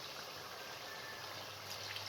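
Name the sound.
water poured into pot of cooking meat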